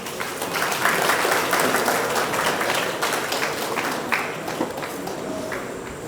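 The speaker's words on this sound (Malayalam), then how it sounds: "കയ്യടി." Sustained audience applause fills a Malayalam movie promotion event as a guest is welcomed to the stage, dense steady clapping throughout with a few sharper claps standing out.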